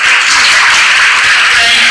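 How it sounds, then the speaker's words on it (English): An audience at a spelling bee semi-final claps for itself: dense, steady applause from many hands, loud and continuous, with no voices over it. "So clap for yourself."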